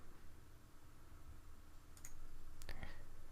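A few faint, sharp computer mouse clicks on a pause button in a tile-grid game, two quick ones close together near the end, over a quiet hum of room noise.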